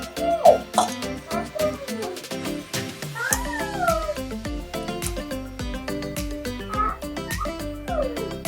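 Toy balls shaped like a tiger and a panda play a repeated electronic meowing cat sound over a bouncy tune, loud and close, with brief childlike voices mixed in.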